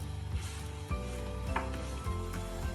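Flour is stirred into boiling water and melted butter for profiterole choux dough, a spoon scraping and knocking against the pot in a steady rhythm over faint sizzling, close up with no talking.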